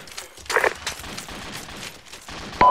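Distant gunfire from enemy contact beyond a hill, a few sharp cracks spread across a short stretch amid faint background noise, moderately loud and without talk.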